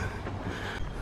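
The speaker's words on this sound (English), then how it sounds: "The train's here. Ooh, funky noises." A train at a station in Southport gives a brief, steady rolling rumble with faint rail clicks and a thin metallic whine, heard from a moderate distance without talk.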